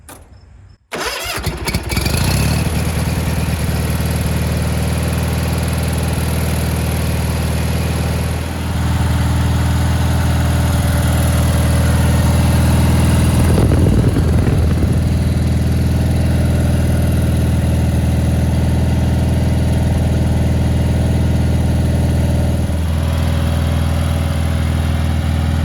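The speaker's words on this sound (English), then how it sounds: "we're going to start the engine, and while the engine is running, we recommend checking for leaks" A Kohler Magnum 18 engine on a Gravely tractor cranks and catches with a sharp start. It then settles into a loud, steady idle that runs unbroken, with slight shifts in tone midway and no speech.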